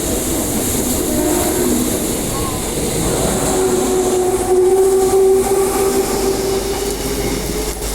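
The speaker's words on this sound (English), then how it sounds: "It's the Midland not in service coming back." A Midland line train, not in service, runs express through Bayswater station, a steady loud rumble throughout with a sustained tonal whine building in the middle, heard close and without talk.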